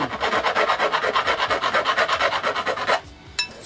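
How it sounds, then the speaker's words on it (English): Rapid, even scraping strokes from a hand deburring tool on the end of a 1/4 inch metal line, loud and close for about three seconds, then a pause and a brief clink. "going to deburr the 1/4 inch line"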